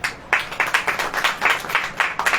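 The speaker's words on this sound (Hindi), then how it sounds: "ताली बजाइए।" Congregation clapping in rhythm at a church sermon, steady sharp claps about four per second, loud and near with no talk over them.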